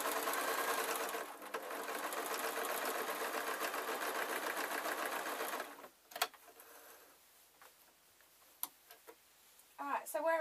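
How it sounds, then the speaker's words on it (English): A sewing machine runs steadily for about five seconds with a fast mechanical whir, then stops, leaving scattered clicks and light handling sounds. "I'm just making sure it lies flat on the sewing machine"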